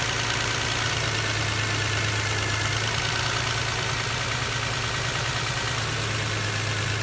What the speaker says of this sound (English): The engine changes because we're causing a misfire, another misfire, so we know that injector is firing.